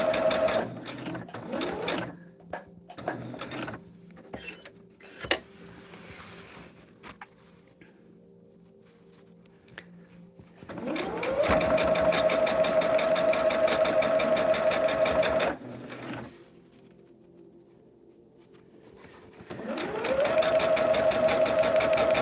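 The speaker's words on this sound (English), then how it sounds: "I'm just sewing on that solid line that's on the foundation" A sewing machine stitches along the solid line of a paper foundation for a blended fan quilt. It runs in a few short early bursts, then in two long, loud, steady whirring runs separated by quiet pauses.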